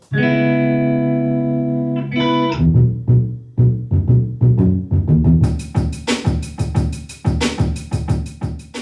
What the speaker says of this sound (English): we're going to try and pick up as much of the reflected sound in the room, the reverb of the space